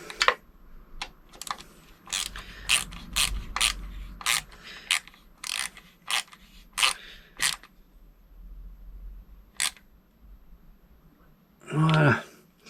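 A ratchet tightens screws on the kickstand of a Xiaomi M365 electric scooter, making a series of sharp, close clicks in short irregular bursts. A brief different rustling noise follows near the end.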